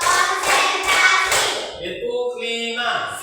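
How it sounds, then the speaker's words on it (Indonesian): Several hand claps struck in a counted, regular rhythm, close and moderately loud, followed by a voice speaking as the claps stop. "Oke, tepuk tangan."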